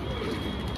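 Rampuri pigeons cooing close by, a soft continuous low burbling in a short burst with no speech over it.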